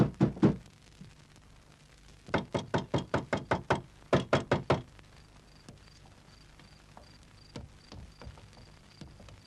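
Loud, close knocking on a door in a Turkish comedy film scene: an opening burst of knocks, then two rapid series of sharp raps with a short pause between them, followed by scattered fainter taps.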